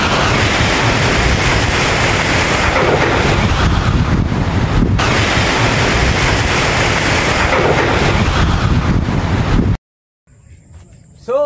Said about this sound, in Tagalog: Kalakas po ng hangin.